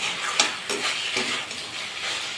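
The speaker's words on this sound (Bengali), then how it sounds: "একটু নাড়াচাড়া করে কষিয়ে নেব।" A spiced bean mixture is stirred and fried in a pan for a Bengali paturi, with soft sizzling punctuated by several scraping stirring strokes at irregular intervals.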